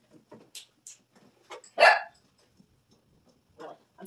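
Dog barking indoors in a kitchen, one sharp loud bark standing out among quieter scattered yips and small noises at a moderate distance.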